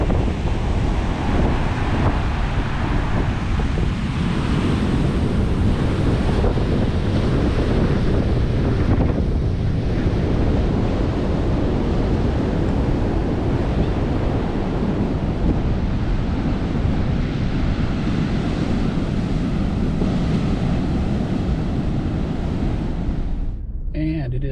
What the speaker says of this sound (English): Big waves forming out past the point of the Four Seasons Pier there.